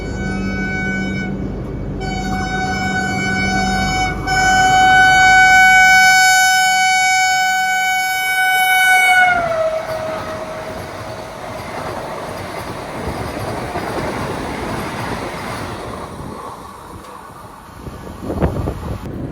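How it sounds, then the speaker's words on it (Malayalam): The Bhopal Vande Bharat express passes at a station, its loud sustained multi-tone horn blaring for several seconds and then sliding down in pitch, followed by a steady rush and rumble of carriages rolling by, with no voices. "ഇത് 8:35 ജബൽപൂർ കയറുന്ന ഭോപ്പാൽ വന്ദേ ഭാരതാണ്."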